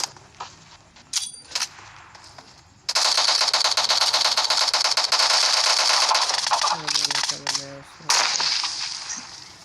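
Rapid gunfire in the mobile shooter PUBG, played on an Infinix Hot 9 phone, crackles in a loud sustained burst after a few isolated shots, with game voice lines and chimes around it.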